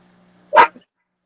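A single sharp, close dog bark with a small trailing yelp, loud against near silence and a faint low hum; no growl is evident.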